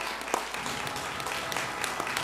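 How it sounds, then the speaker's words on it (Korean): Party members clap for a regional committee chair being introduced at a Jeonbuk party convention in Jeonju, a sustained crowd applause with scattered sharper claps standing out from the dense, even texture. "박수로 맞이해 주십시오"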